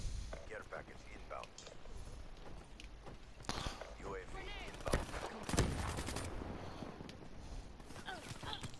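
Black Ops 3 gunfire crackles in sharp bursts and rattling volleys amid footsteps and game effects, with players talking over much of the action.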